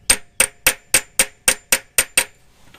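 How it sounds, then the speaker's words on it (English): Nine sharp, evenly spaced hammer strikes, about three per second, drive a 4L80E transmission output shaft seal into place without a proper seal driver. The blows are close and loud with no talking, then stop. "I don't have an actual seal driver, so that's all I was going to do is just drive it like that."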